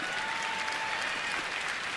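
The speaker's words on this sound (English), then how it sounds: "a nice round of applause right there as he stepped into the batter's box" A round of applause from baseball fans in the stands as the Minnesota batter steps into the box at the ballpark, steady distant clapping spread across the crowd, even and moderately quiet.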